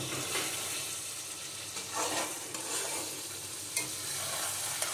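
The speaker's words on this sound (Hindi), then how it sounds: "मसाला अच्छे से भून गया है, अभी बैगन को डाल देते हैं, फ्राई किया हुआ बैगन है डाल दिया है, अब इसे मिक्स कर लेते हैं।" Fried brinjal is stirred into a frying garlic-ginger masala in a pan, a soft steady sizzle with gentle spatula scrapes and a few light knocks, quiet and close, no voices.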